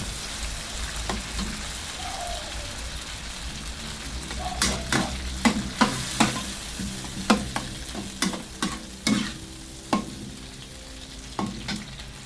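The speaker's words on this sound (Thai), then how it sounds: "แล้วก็คนเข้ากันนะคะ" Canned fish and kale being stir-fried in a pan, with a steady sizzle of frying under a series of sharp spatula scrapes and clacks against the pan, spaced irregularly and growing more frequent partway through.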